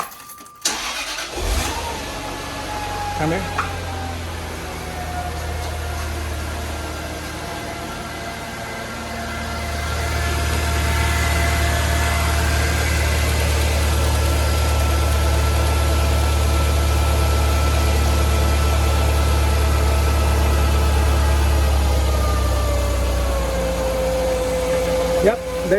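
A 1998–2003 Jaguar XJR/XJ8/XKR/XK8 engine cranks and starts after an oil change, then settles into a steady low idle that hums on nearby while a person briefly speaks.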